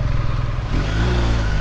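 A BMW R1250RT motorcycle engine runs with a deep, muffled, steady rumble, close and continuous with no talk over it.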